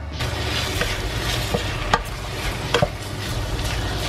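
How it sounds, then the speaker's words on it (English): Chilli con carne mince sizzles steadily in a pan while a spoon stirs and breaks it up, with a few sharp scrapes and knocks of the utensil against the pan over the frying. "I'm just going to give that a nice stir now to break that all up as well"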